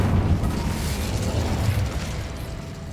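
A fire spell cast in Hogwarts Legacy gives a loud, dense burst of whooshing flame right at the start that rumbles on and slowly fades over a few seconds, with no voices.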